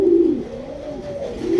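An Australian white dove gives one low, steady, rolling coo, close and clear with nothing else heard.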